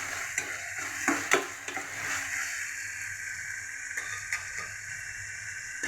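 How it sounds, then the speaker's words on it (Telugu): Eggplant pieces drop into a pan of softened tomatoes for a raw prawn curry and fry with a steady close sizzle, with a few stirring scrapes and clatters early on and no talk. "ఇప్పుడు వంకాయలు వేసేద్దాం."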